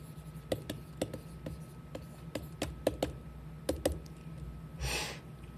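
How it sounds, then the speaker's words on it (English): Marker or chalk strokes on a board during a chemistry lesson make a string of sharp, close taps and short scratches at an irregular pace, ending with one longer rubbing stroke, with no talk. "Actually, I'll write that up there."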